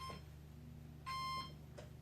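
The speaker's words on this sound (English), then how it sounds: "I plugged this battery in, transmitter on, does its little beeps" Electronic beeps sound as an FTX Comet RC car's electronics power up: a short tone, a longer beep, then a brief chirp, over a low electrical hum.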